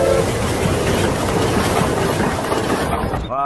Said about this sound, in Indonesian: Coba dinyalakan. Wah, kereta api Thomas.